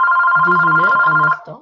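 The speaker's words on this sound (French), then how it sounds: "c'était mon téléphone qui sonnait" A mobile phone rings loudly and close by with a steady electronic tone, then cuts off as someone speaks briefly over its final moment.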